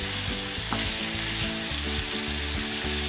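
Chicken pieces frying in a pan for chicken afritada, a steady close sizzle with stirring, and no talk over it.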